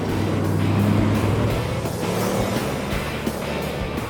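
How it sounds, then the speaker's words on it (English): A damaged car leaking gas runs through desolate streets with an unhealthy engine, giving a steady, rough low drone with a broad wash of road noise that stays loud and close throughout. "The car's leaking gas, and the noise is not healthy."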